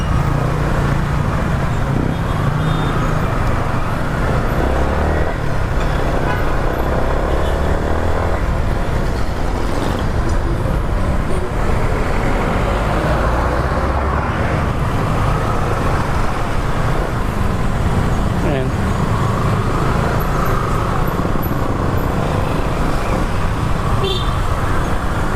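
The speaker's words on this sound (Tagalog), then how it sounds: "pag mga ganitong rush hour talaga bumper to bumper, lalo na pag sa mga highway" Rush-hour bumper-to-bumper highway traffic in Manila: a steady, dense roar of cars, buses, motorcycles and trucks that rumbles on without pause, with engines passing close by.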